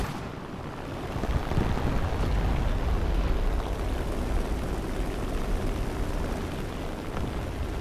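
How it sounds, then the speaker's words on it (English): A Stuka dive bomber in a World War II combat video game drones as a distant, steady engine roar that swells and holds, a broad rumbling wash with no talk. "It's weird to me that you can hear that Stuka so far away."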